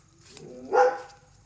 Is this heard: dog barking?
yes